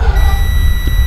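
Multimeter continuity buzzer beeping steadily while its probes test a fuse on an OPPO phone board, a single sustained electronic tone held for about a second, close and fairly loud.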